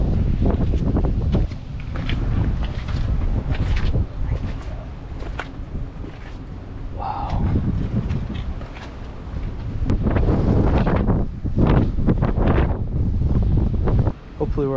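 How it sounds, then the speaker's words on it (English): Strong wind buffets the microphone in heavy, rumbling gusts that come and go at an old gold processing plant, with a person speaking briefly under the roar. "Feel how windy it is. It's a wind tunnel."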